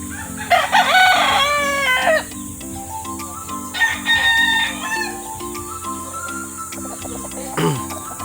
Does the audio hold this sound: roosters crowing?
yes